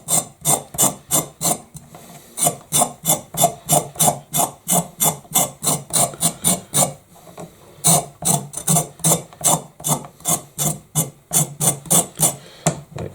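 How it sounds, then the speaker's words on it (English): A carrot, topped and tailed, has its skin scraped off with quick repeated rasping strokes, close and loud, in steady bursts with a brief pause partway through. "Let's get a quick scrape. Let that take the skin off."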